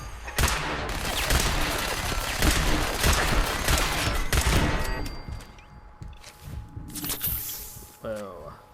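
Rapid bursts of turret gunfire in Fallout 4 rattle loudly and nearly nonstop for about five seconds, then taper into scattered shots and softer game noise, with someone talking over the action.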